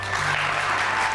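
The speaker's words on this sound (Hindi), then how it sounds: "हुमायूं के लिए तालियां बजेगी ऑफ कोर्स।" A short burst of steady audience clapping from a studio crowd on a television show, dense and even throughout.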